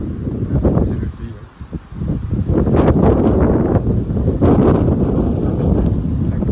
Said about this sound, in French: Il n'y avait pas encore trop de vent dans la journée, là ça y est, le vent s'est levé.